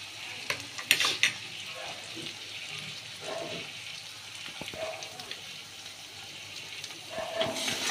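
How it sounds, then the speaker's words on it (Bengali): Cauliflower with turmeric and salt being stirred in a pan, soft sizzling with scraping and clattering of a spoon, close by, a couple of louder knocks early on, no speech. "এটাকে নেড়ে চেড়ে মিশিয়ে দেবো।"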